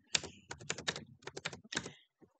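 Fast typing on a computer keyboard while editing text, a dense burst of close, crisp key clicks in quick clusters with a short pause near the end.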